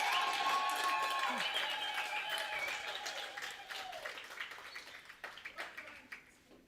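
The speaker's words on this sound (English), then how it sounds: "Let's give her a round of applause." A crowd at a women in sport conference claps and cheers, starting full and gradually thinning to scattered individual claps as the applause fades out.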